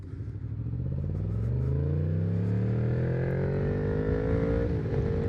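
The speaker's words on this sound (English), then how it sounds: "Oh, the MT10 is such a good sounding motorcycle" A Yamaha MT10 motorcycle's engine drones steadily while riding, its pitch climbing smoothly as it accelerates, loud and close throughout with no talking.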